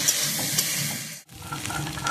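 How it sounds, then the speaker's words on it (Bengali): Shrimp fry in hot oil in a pan, giving a steady sizzle with stirring. The sizzle dips briefly to silence partway through, then resumes more softly. "আমি এদিকে চিংড়ি মাছটা ভেজে নিচ্ছি।"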